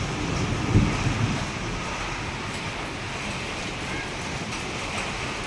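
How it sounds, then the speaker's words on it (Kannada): A steady, dense rush of wind and rain fills the clip, broad and constant, with a brief low bump near the start. "ಗಾಳಿ ಮಳೆ ಸ್ಟಾರ್ಟ್ ಆಯ್ತು."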